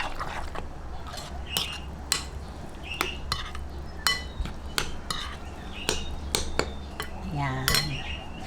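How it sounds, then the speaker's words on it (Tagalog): A utensil stirs a sardine omelette mixture in a bowl, making repeated sharp clinks and scrapes against the bowl in an uneven rhythm, close up with no talking. "Haluin lang po ulit natin."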